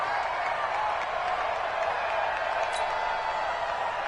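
Football stadium crowd roaring before a Jacksonville Jaguars versus Cincinnati Bengals game, a dense, steady wash of cheering and applause that holds at full level throughout.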